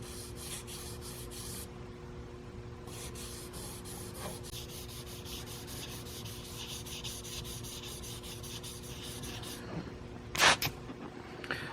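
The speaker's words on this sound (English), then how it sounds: "And that's all with block sanding." Steady rhythmic rubbing of a sanding block across a painted 1967 Mustang door panel, close and continuous, with a brief louder scrape near the end.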